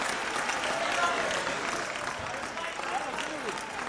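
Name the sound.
audience cheering and applauding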